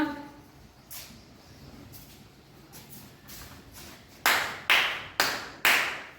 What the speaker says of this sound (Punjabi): ਚਾਰ ਤਾੜੀਆਂ